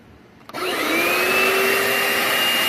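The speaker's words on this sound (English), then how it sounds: "Almost sounds like a shop vac." A Bissell Little Green Pro Hot Spot portable carpet cleaner clicks on and ramps up to a steady, loud whirring suction drone, like a compact vacuum running close by.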